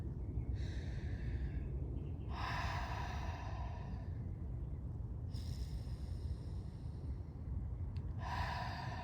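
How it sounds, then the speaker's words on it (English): Slow, deep breaths during a guided meditation, four long airy inhales and exhales spaced a few seconds apart over a steady low background hum, with no talking. "Let's breathe."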